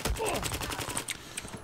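Rapid gunfire in the Battlefield 4 video game, a dense run of shots crackling close and loud, with a voice talking faintly underneath.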